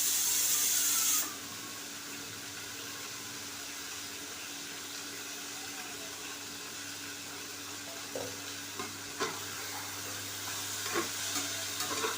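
Fried food stirred and flipped in a pan as the gas is switched off, giving a soft, steady sizzle with a few light scraping and clinking touches of the spatula near the end.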